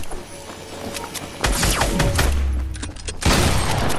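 Gunfire in a first-person shooter played on controller, with sharp shots and heavy thuds in two loud bursts over a steady game background.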